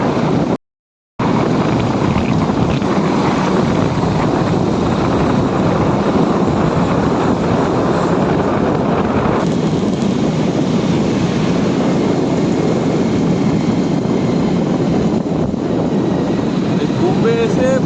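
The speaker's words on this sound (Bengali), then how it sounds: "কুম্ভে এসে বাইকে করে যাচ্ছি আমরা।" Motorbike ride carrying two people through the crowds at the Maha Kumbh 2025, with a constant roar of wind buffeting the microphone over the engine noise and a brief dropout near the start.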